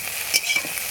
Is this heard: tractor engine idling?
no